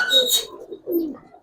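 A pair of jhakgola pigeons coos close by in two short, soft phrases, a brief higher chirp at the start.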